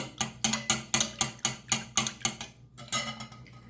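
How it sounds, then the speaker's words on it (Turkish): Water is whisked in a bowl while making Balkan-style Albanian paça, with about ten quick, rhythmic scraping strokes close by, then a short pause before the beating picks up again. "İkinci su bardağı suyumu ilave ediyorum. Onu da güzelce çırpıyorum."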